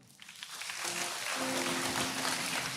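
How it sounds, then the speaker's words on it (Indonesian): Church congregation breaking into applause, building from scattered claps into a steady, dense wash of clapping that fills the room. "Tepuk tangan Tuhan kita."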